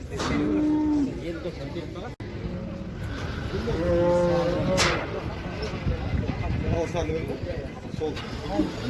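Cattle low repeatedly at an open livestock market near Almaty, with several drawn-out moos rising over steady crowd chatter and background bustle.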